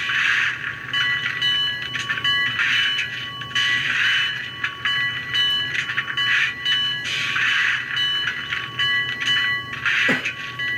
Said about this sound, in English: So that's a ringing bell,